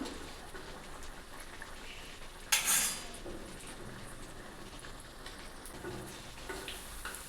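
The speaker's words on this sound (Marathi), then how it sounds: "कमी गॅसवरती तळायची आतनं कच्ची नाही राहिली पाहिजे" Grated raw potato fries in oil over a low gas flame, giving a soft, steady crackle and sizzle, with one brief louder clatter partway through.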